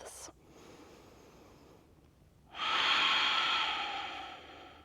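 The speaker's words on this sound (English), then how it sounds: "settle in for a couple of really nice big breaths" A slow, deep breath during a restorative yoga hold: a quiet sniff at the start, then a soft airy exhale or inhale that swells loud and close for a couple of seconds and fades away.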